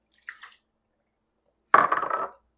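A cup of water is poured into a pot holding two cups of sugar for icing, with a couple of soft taps and then a brief, close splashing pour lasting about half a second.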